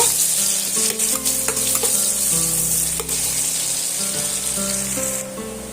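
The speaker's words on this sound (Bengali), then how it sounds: "পেঁয়াজটা আমি এখানে একটু লাল লাল করে ভাজা করে নেব" Chopped medium-sized onion frying in a pan for an egg recipe, a loud continuous sizzle with occasional stirring scrapes and clinks throughout, no talk.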